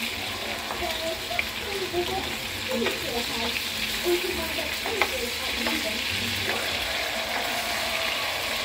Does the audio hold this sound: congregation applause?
no